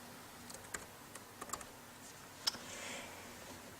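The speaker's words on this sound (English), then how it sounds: "what I'm going to do is I'm going to type Mayflower" Light, scattered keystrokes on a computer keyboard, a few soft clicks in a short irregular burst, quiet and close, with no talk.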